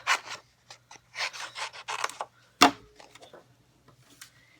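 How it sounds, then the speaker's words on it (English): Scissors snip through paper in short, crisp rasping strokes, a quick run of cuts, then a sharp clack and a few softer snips. "what I'm going to do is cut this out"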